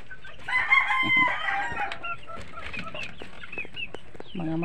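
Chickens crowing and clucking in a backyard coop in the Philippines, with a prominent rooster crow near the start followed by scattered nearby clucks and calls, no talking.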